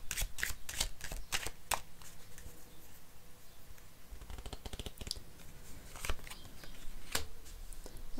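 Tarot cards shuffled close up and quietly, crisp riffling bursts and soft flicks in irregular clusters, pausing briefly before another round of shuffling.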